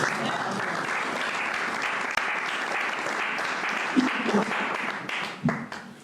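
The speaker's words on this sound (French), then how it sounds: "je vous demande d'applaudir pour votre propre compte" A church congregation applauding, a moderately quiet, continuous spread of clapping with some murmuring voices and a few brief louder bursts near the end.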